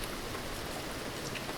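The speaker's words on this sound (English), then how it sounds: "the constant roar of the rain" Heavy rain roars steadily and evenly throughout, a dense hiss of countless drops striking surfaces with no gaps, voices or other sounds.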